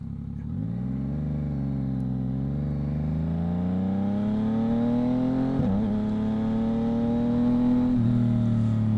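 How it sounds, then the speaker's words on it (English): Yamaha MT-09 three-cylinder motorcycle fitted with a Two Brothers exhaust, heard up close as the engine note climbs steadily under acceleration, with brief dips at gear changes before rising again, loud and continuous. "the sound tube of the two brothers exhaust on this 3-cylinder, super sweet"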